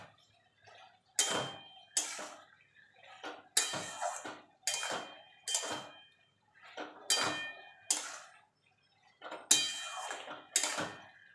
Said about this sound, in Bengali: এবার ভালো করে নাড়াচাড়া করে নেব।